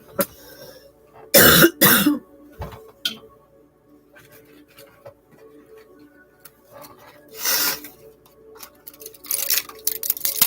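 A couple of harsh coughing bursts come close together, followed by quiet rustling and another cough later on.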